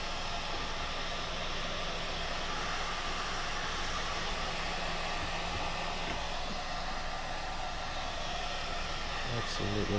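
A heat gun blows a steady, loud rush of hot air onto a car headlight brow, a continuous close hiss that barely varies, with a brief clatter near the end.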